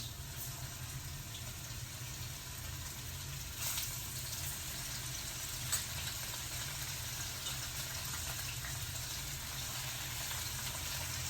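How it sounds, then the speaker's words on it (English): Steady sizzling of salmon chunks frying in garlic oil in a large cast iron pan, a constant crackling hiss with a low hum underneath, no voices. "Now I'm going to be adding my beautiful salmon chunks to my garlic oil."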